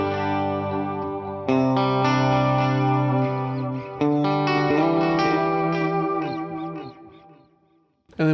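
Clean electric guitar chords through a Fractal FM9 with stereo amps, strummed a few times, each ringing out with a short reverb tail and faint delay repeats before fading to near silence.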